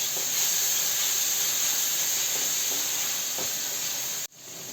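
Tomato frying with carrot and onion in a pan, a continuous bright hissing sizzle heard close and loud, steady throughout with faint crackles, ending in an abrupt cut.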